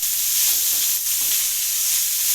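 Fried fish head stirred into hot oil with ginger in a pan, giving a loud, steady, close hiss of sizzling with no talk.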